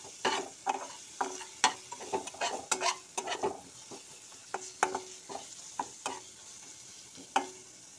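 Ingredients for a soybean curry fry in a pan until reddish, as a spoon scrapes and stirs in quick, repeated strokes over a soft underlying sizzle, close and without talk.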